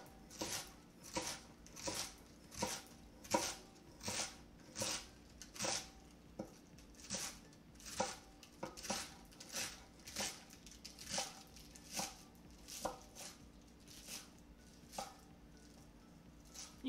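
A knife thinly slicing cabbage on a cutting board, with steady, evenly spaced crisp cuts repeating roughly once a second, quiet and close, with no talk.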